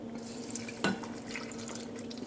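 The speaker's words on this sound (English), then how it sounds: "and then I just add water" Water trickles and drips into a detox drink mixture, a soft liquid pour with a sharper splash partway through, close and fairly quiet over a steady low hum.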